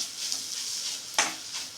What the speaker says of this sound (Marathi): चांगलं हलवून मस्त भाजून घ्यायचं.